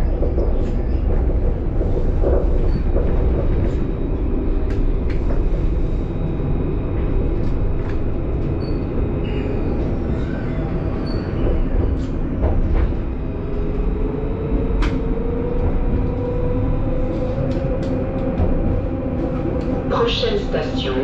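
A tram rolls through the streets of Mulhouse on line 1 between Châtaignier and Gare Centrale, giving a steady low rumble with occasional squeals and clicks. It stays fairly loud and continuous for the whole stretch, with no one talking.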